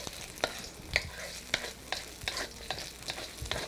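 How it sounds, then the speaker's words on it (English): A utensil scrapes and knocks rhythmically against a pan as ginger and garlic are stirred in hot oil, sharp taps repeating about twice a second over a soft sizzle. "And I give this a stir. And the good flavor from the ginger and the garlic will go all in the oil."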